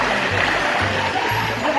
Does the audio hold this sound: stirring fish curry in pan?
no